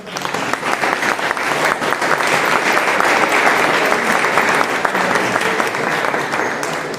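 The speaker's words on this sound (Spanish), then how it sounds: "Un fuerte aplauso." An audience at a conference gives a strong round of applause, dense continuous clapping that swells and holds for several seconds.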